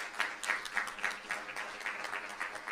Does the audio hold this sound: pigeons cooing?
no